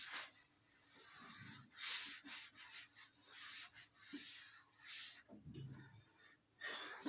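Eraser rubbed across a board during a physics lesson on capacitors, soft repeated swishing strokes in short bursts, faint and close, with no talking.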